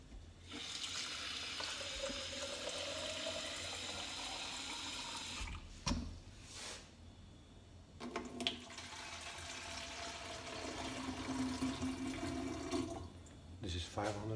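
Water runs steadily from a tap into an espresso machine's tank being filled for descaling, a close gushing, splashing stream with brief pauses and changes in pitch as the level rises.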